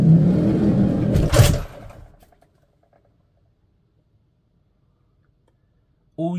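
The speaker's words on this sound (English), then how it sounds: "I'm going to shut this door." A camper van door slams shut with one loud thud, cutting off outdoor rumble and leaves rustling, which drop to near silence before a voice returns at the end.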